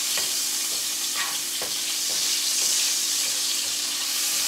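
Cabbage fries in a pan with peppers, onions and minced garlic, giving a steady close sizzle with occasional stirring scrapes and clicks and no talk.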